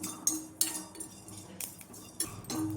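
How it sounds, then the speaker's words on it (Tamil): Cumin, fennel seeds and black pepper dry-roasting in a pan, heard as scattered light metallic clinks and scrapes of a spoon against the pan with faint rustling between, close and fairly quiet, no talking. "இப்போது நான் காமிச்சல சீரகம் சோம்பு மிளகு அதை வறுத்து எடுத்துக்கலாம் இப்போ இது எல்லாத்தையும் லைட்டாக வறுத்து எடுத்துக்கலாம்"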